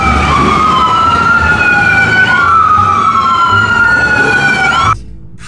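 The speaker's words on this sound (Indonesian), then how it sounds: "Kita menemukan ambulans." A loud wailing ambulance siren sweeps up and down continuously close by over a low engine rumble, then cuts off abruptly near the end.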